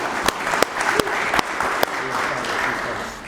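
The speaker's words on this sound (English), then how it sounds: "So applause to you." Audience applause at a live debate on plastic-to-fuel in Chicago, a steady wash of clapping with a few sharp louder claps standing out, filling the clip and tapering slightly at the end.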